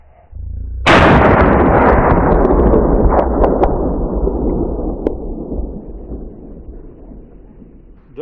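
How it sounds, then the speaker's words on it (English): A single loud rifle shot cracks at close range during a blue wildebeest hunt in Namibia, followed by a long rolling echo that slowly fades across open country over several seconds. "Very good shot, go down."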